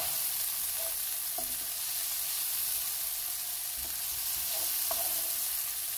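Omelette frittata frying in a pan, a steady soft sizzle with occasional light scrapes and taps as it is stirred.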